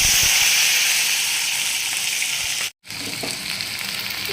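Chopped onions frying in hot oil with dried chillies and no turmeric: a loud, constant hiss and sizzle close by that cuts out for a moment, then carries on, with no voices.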